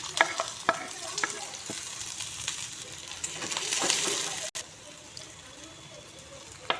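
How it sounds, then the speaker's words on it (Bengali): Chopped onions drop into oil already used for frying chilies, making a soft, steady sizzle. Scattered clicks of stirring sound close but fairly quiet. "এই মরিচ ভাজা তেলেই আমি পেঁয়াজ কুচিগুলো দিয়ে দিচ্ছি।"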